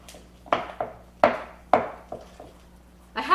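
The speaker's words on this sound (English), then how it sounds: "I'm going to mix the vegan cream cheese and the almond butter together really," Spoon working vegan cream cheese and almond butter together in a bowl, a series of soft clinks and scrapes in an irregular rhythm, close and fairly quiet, with no talking.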